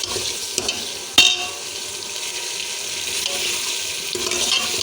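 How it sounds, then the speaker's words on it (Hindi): Chicken fries in a pan with a steady, bright hiss and crackle, loud and close, with one sharp clatter partway through. "चिकन को जब फ्राई करेंगे अच्छे से"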